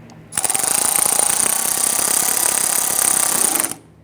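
A power tool rattles hard for about three and a half seconds as it snugs a headlight mounting bracket bolt on a Ram 1500 pickup. The buzzing impact is loud and close, begins and ends abruptly, and has no talking over it.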